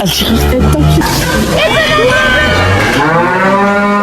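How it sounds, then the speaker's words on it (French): Cattle mooing loudly and close by, several long drawn-out lows overlapping one another, with voices faintly in the background. "Vache."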